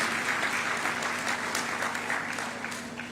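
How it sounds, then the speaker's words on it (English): A round of audience applause at a Jamaican government youth summer program ceremony, loud, continuous clapping that tapers slightly at the end. "Please give her a round of applause."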